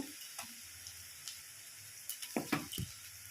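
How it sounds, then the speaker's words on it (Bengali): Ginger paste hitting hot oil after fried onions, giving a soft sizzle with a few sharp spattering crackles and light clicks, quiet at first and then a brief cluster of pops. "এই আদাটা দিলে যে আদা তেলটা ছিটকায়"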